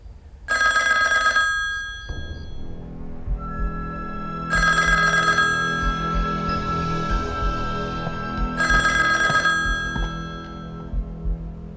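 A telephone rings in three long electronic bursts about four seconds apart, loud and close, separated by a quiet room hum with no talk.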